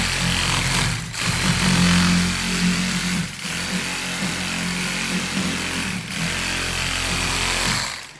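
A Matador electric drywall bullnose sanding tool runs with a steady motor whine and grinding rasp against a drywall corner, dipping briefly three times as it is repositioned, loud and close with no talk.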